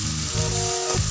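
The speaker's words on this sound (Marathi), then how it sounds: "आणि गाजर बरोबर कांदाही छान तळला जाईल, जळणार नाही।" Onion and carrot fry in hot oil in a pan for lemon rice, a close, loud and continuous sizzle with brief stirring.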